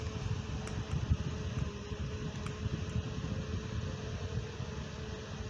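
A small 12 cm, 220 V cooling fan runs steadily with a constant whirring hum and airy noise, close by and moderately quiet.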